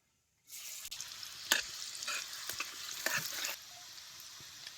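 Chopped onion dropped into hot oil with cumin seeds in a pan over a wood-fired stove, giving a steady close sizzle with light stirring scrapes and no talk.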